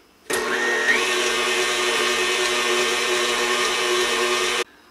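An electric mixer whips butter in a bowl for a chocolate cake, a loud steady whirring hum that starts abruptly, holds for about four seconds, then stops.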